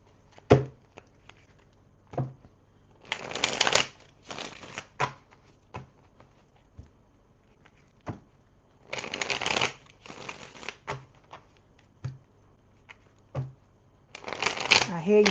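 Tarot cards shuffled by hand in repeated riffling bursts of crisp, close flutter, separated by short pauses and soft taps, with a voice talking between the shuffles.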